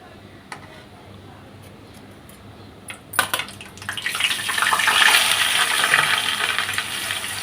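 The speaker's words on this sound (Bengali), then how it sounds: "কিছুক্ষণ মাছটাকে আমি এভাবে ভেজে নিব।" Fish dropped into hot mustard oil with black cumin and dried chilies: a few quiet clinks, then a sudden hiss that swells into a loud, bright, sustained sizzle.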